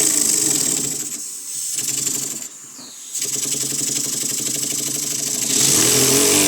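A small model engine in a workshop runs loud and close, its buzzing note dipping briefly twice before climbing into a faster, higher rev with a thin whistle from the ports.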